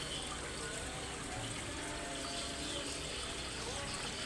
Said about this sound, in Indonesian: Nah, ini jadi gelembung oksigennya lebih banyak kawan-kawan.